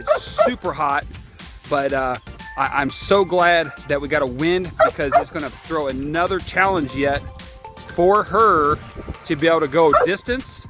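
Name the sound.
young retriever dog barking excitedly before dummy launch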